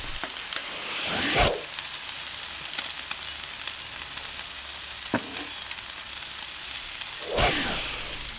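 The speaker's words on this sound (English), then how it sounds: "I would cook the bacon on the grate and the mushrooms on the griddle." Bacon on the grate and mushrooms on the griddle of a Weber Q 3200 grill cooking outdoors: a steady, soft hiss of frying fat, broken by a few sharper scrape-and-flare moments, with no talk.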